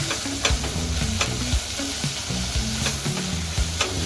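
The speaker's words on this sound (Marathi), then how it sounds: "ते सगळं फोडणी त्या मूग मटकीमध्ये व्यवस्थित मिक्स झाली पाहिजे" A spoon stirs a sizzling tempering of oil and spices into sprouted moong and matki with a little coriander, giving a continuous close-up crackle broken by repeated scraping strokes against the pan.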